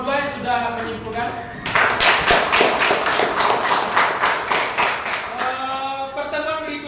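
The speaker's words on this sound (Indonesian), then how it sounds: "tepuk tangan untuk kelompok 2 yang sudah menyimpulkan" Rhythmic clapping from a classroom of students applauding group 2 during a lesson, a steady burst of about four seconds with a teacher talking just before and after.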